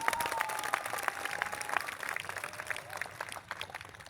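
An audience breaks into sustained applause, dense clapping holding steady for several seconds at a lively, fairly loud level with no talking over it.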